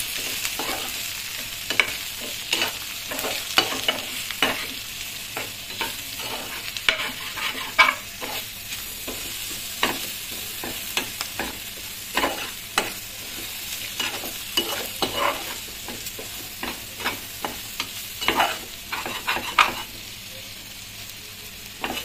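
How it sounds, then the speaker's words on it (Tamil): Ivy gourd (kovakkai) fry stirred in a frying pan, a soft continuous sizzle broken by repeated scraping strokes of a spatula at an irregular rhythm, close and fairly quiet, with no voices. "இப்போ திருப்பியும் நல்லா நம்ம வந்து கலரி விட்டுக்கலாம்"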